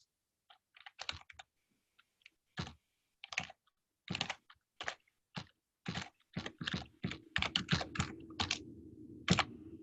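Keys on a computer keyboard are tapped to enter an email address, sparse single clicks at first, then quickening into rapid close clatters, with a faint low hum joining near the end.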